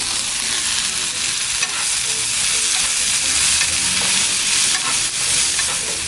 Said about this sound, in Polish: będziemy jeszcze to podsmażali około 10-15 minut do miękkości naszych warzywek